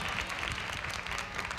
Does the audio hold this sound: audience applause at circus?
yes